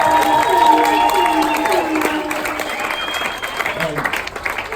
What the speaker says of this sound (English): make some noise, do a big round of applause